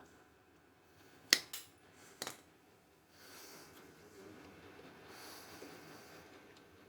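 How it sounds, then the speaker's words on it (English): Two or three sharp cutter snips trimming a wire end beside the spindle nut on 70-year-old brakes, followed by faint rustling handling, fairly close and quiet. "we trim this one off so that it can get folded back against the nut"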